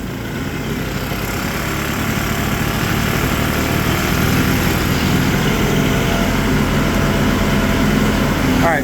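A 1960s barn-find Vespa scooter engine running after long storage, a steady close buzzing small-engine drone that holds evenly throughout.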